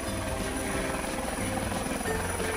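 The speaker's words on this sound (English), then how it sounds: "Training helicopters are used to train new pilots" A training helicopter drones steadily with a continuous thumping rotor and engine hum, moderately distant, no voices.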